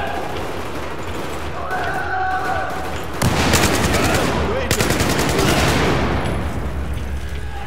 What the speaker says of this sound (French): Très beau tir, Wrecker!